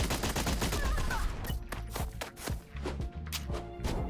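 Sniper gunfire in the video game Blast Brigade: a dense rattle of loud shots opens, then thins into separate sharp cracks and thumps spaced irregularly, with no voices.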